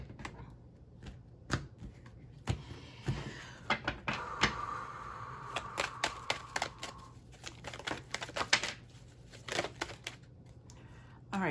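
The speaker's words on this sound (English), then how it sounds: "Now the cards don't want to shuffle." Playing cards are shuffled up close, giving sharp riffling flutters and soft slaps that repeat in short bursts, quiet and alone with no talking.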